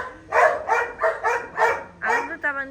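A pet dog barks in a quick series of about seven sharp, close yaps, ending in a higher whimpering whine.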